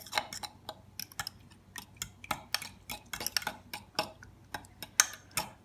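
A utensil whisks an egg mixture for a bacon omelette in a bowl, rapid irregular clinks and taps against the bowl, close and fairly quiet, with no talking.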